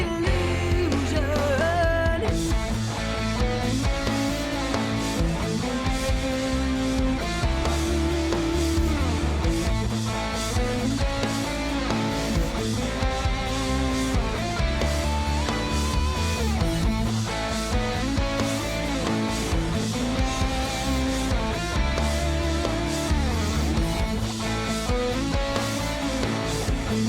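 Rock song outro with dense full-band sound, a guitar melody riding over the mix and reversed swelling effects, loud and continuous throughout with no talking.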